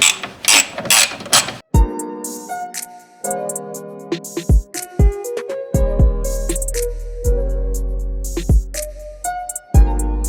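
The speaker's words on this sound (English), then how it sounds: "let me take out these bolts here and let's see where that takes us" A ratchet wrench backs out tail light bolts on a Mercedes-Benz 190E, close and loud, with rapid clicking runs broken by pauses, metallic taps and tool handling.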